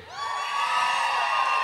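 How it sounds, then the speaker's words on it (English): A large outdoor crowd at Pride in London 2019 cheers loudly in front of the Women's Stage, with high whoops and shouts swelling into a sustained roar that holds to the end. "Give me a cheer if you're from London"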